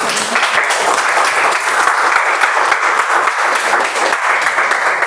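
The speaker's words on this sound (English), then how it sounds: "Please have a big round of applause for this." Loud, continuous applause from a crowd at a Toastmasters meeting, a thick, steady roar of clapping hands that fills the whole stretch without pause and with no talk over it.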